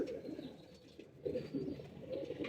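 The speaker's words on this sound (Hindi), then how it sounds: "तो ये कबूतर है पट्टी वाले दोस्तों।" Several striped pigeons coo in low, throaty murmurs that overlap and swell in soft pulses, fairly close and steady throughout.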